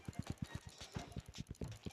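A horse's hooves clip-clop in a video game with a quick, even rhythm of close, quiet hoofbeats throughout.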